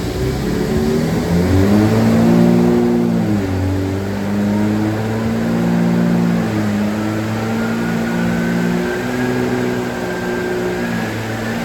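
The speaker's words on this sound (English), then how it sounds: "This is our 3rd pull in 7th gear" A 2022 Ford Raptor engine revs hard on a dyno in 7th gear under an E50 tune, a loud sustained roar whose pitch dips once and then climbs steadily through the pull.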